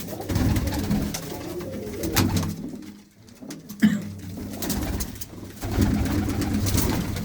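Domestic pigeons in a rural Punjabi loft coo in low, rolling phrases, close and fairly loud, with a short quieter gap midway before the cooing resumes.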